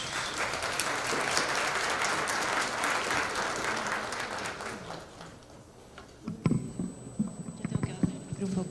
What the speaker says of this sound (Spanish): a quien también recibimos con fuerte voto de aplauso